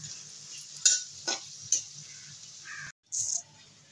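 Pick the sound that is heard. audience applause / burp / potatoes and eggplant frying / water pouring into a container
potatoes and eggplant frying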